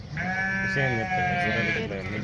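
Sheep bleat from a flock attacked by dogs in a village in Jagtial rural area, one long wavering bleat close by, with voices murmuring underneath.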